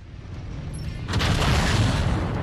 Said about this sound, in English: Standing right in the exploding mech.